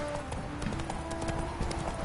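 Horse hooves clip-clop at a steady gallop in The Witcher 3 video game, a fast, even rhythm of close hoofbeats over a continuous background bed.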